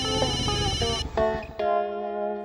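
An electronic ringtone plays in repeating melodic bursts, loud and close, with a brief break before the tune resumes.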